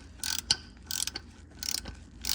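An oil filter wrench breaks loose the oil filter on a 2006–2013 Lexus IS 250/350: four bursts of ratcheting clicks and metallic scraping, close and fairly quiet, separated by short pauses, with no talking.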